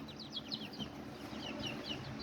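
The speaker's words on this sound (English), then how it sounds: "Look at this little rooster right here." Small Kikiriki roosters and hens, including azteca and serama bantams, make faint soft clucks and chirpy calls in a coop, several short repeated notes spread across a quiet backdrop.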